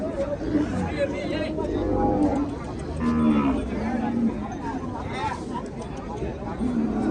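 Cattle moo repeatedly amid a busy outdoor cattle market in Kalasin province, Thailand, the calls mid-distance and mixed with a constant murmur of crowd chatter and nearby voices talking.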